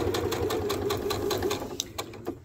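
A sewing machine runs in rapid, even bursts of stitching, close and clear, while cotton fabric pieces for quilt half square triangles are sewn together.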